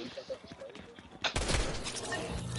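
Gunfire in a residential neighborhood at night, a sudden loud burst of rapid shots after quieter popping, with people talking nearby.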